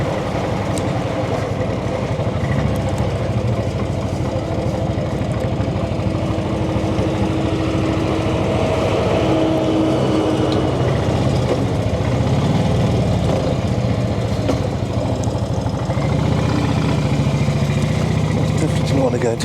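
Brough Superior motorcycle engine running continuously while riding on a country road past a village pub, a loud steady drone with wind rush, and someone talking over it.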